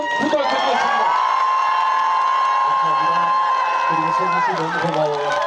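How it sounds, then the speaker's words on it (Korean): A concert audience cheers loudly with high shouts and whoops over steady clapping from a large crowd, sustained and dense throughout, in a Korean show hall. "감사와 그리고 격려의 우렁찬 박수를 한번 부탁드리겠습니다."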